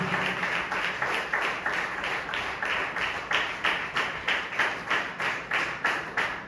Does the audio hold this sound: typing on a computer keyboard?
no